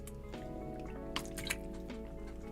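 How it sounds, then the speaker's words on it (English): Water from a drinking bottle splashes onto a face, giving close, wet drips and squishy slaps with a couple of sharper splashes over a low steady background hum. "I just fucking splashed water all over my face."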